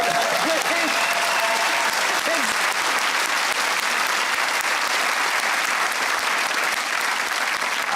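Sustained studio audience applause on a TV comedy panel show fills the room steadily and loudly for several seconds, with a brief voice and a few whoops heard early on.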